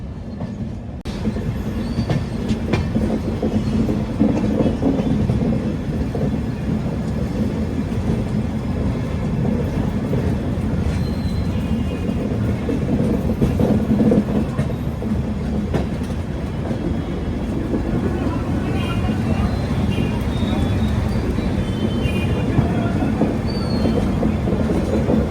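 AP Sampark Kranti Express passenger train running on rails, a steady loud rumble of wheels heard from inside a coach, with faint rhythmic clatter and occasional squeal over a constant roar.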